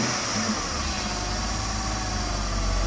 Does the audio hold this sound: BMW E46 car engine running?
yes